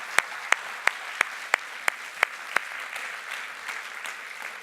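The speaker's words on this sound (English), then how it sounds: "Let's give a round of applause, everybody." A congress session audience claps in roughly eight sharp, evenly spaced beats, like a slow rhythmic round, then fades into soft room murmur.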